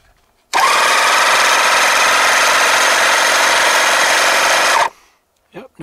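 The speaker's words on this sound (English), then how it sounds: "I got a compressor here that runs through this lighter socket. So we'll just fire it up and see if it works." A small 12-volt air compressor plugged into a car lighter socket and powered by a Lensun SG510 solar generator starts abruptly and runs loud and steady with a buzzing mechanical drone for about four seconds, then stops, followed by brief faint noises.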